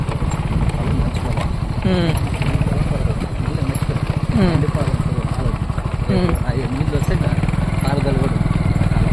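A motorbike engine rumbles steadily and loudly up close as it rides through a field near a mango orchard, with someone speaking over the continuous chugging.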